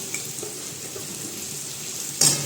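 Potatoes tipped into a hot pan already holding asafoetida, ginger and chilli for a Gujarati potato and pointed gourd curry, giving a steady close sizzle that swells briefly into a louder burst near the end.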